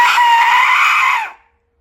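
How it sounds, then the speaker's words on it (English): A Mayan death whistle blown once in a single loud, shrill, scream-like blast with a rough, wavering tone, held about a second and a quarter before cutting off into silence. "This is a Mayan death whistle."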